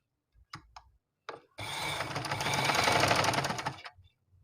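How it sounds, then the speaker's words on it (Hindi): A sewing machine stitches a kameez neckline close along the buckram, a short burst and a brief start, then a steady whirring run of about two and a half seconds, close and alone. "इसके बाद आपने यहाँ पर बुकरम के बिल्कुल साथ साथ सिलाई लगानी है।"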